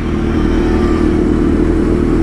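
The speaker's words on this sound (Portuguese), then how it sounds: "Olha esse escapamento aí, esse barulhento pra caralho" A loud Honda Hornet or CB 1000 motorcycle exhaust roars and revs steadily throughout, close to the microphone, with a deep, rumbling engine tone and no pauses.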